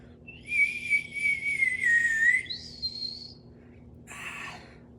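A plastic water-filled warbling bird whistle blown in a close, warbling trill for about two seconds, then a shorter higher glide and a final brief burst after a pause, over faint background hum.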